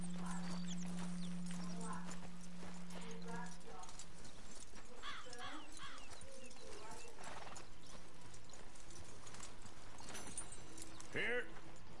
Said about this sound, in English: Cavalo bonito, vou roubar ele pra mim.